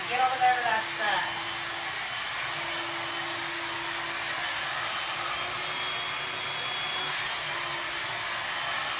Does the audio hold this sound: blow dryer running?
yes